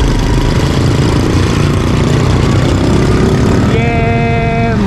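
A motorcycle engine hums loudly and continuously while riding through a town market area, close and steady, with a horn-like tonal sound cutting in near the end.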